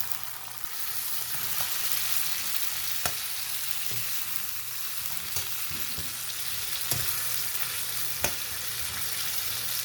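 Chicken pieces sizzle and fry with masala in a pan for a green hara masala karahi curry, a steady dense crackle with occasional stirring clinks and pops, close and continuous, no talking.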